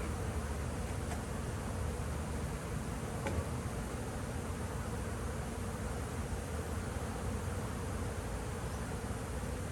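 A steady, dense buzzing of many bees fills the scene, a constant drone with no voices.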